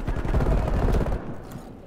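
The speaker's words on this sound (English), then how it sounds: "There's a lot of gunfire over there." Heavy, dense gunfire in Call of Duty: Black Ops Cold War, a loud sustained burst of rapid shots that cuts off abruptly, leaving a quieter rumbling tail.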